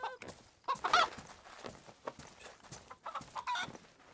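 Chickens cluck in the video game DayZ, several short, scattered clucks and squawks, moderately close, with no speech.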